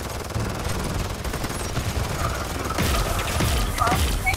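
A poison grenade goes off in the game Paladins amid continuous crackling gunfire and game noise, with a sharper burst swelling in about the last second and a half.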